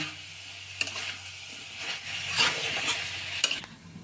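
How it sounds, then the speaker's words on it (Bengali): Young jackfruit and potato stir-fried with spices in a hot pan, a steady sizzle with scraping stirs and a couple of sharp utensil knocks, close and moderately loud with no talking. "এখানে এঁচোড়টাকে আমি সুন্দর করে মশলার সাথে কষাচ্ছি।"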